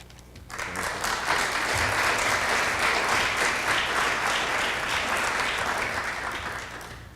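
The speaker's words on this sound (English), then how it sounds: "Thunderous applause from the front row." Thunderous audience applause at an anniversary celebration event in Sheffield, a dense sustained clapping that swells in after half a second and holds steady, close and loud, for about seven seconds before easing slightly.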